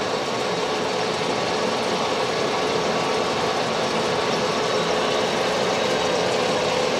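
A lathe machines the top of a Lotus Twin Cam piston, giving a loud, steady droning whir that runs unbroken throughout with no talking.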